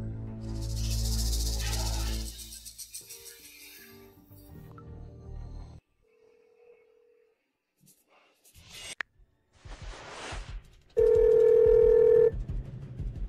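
An outgoing phone call rings unanswered, with intermittent electronic call tones, including a loud steady tone near the end, separated by quiet gaps and mixed with other rustling and clattering noise.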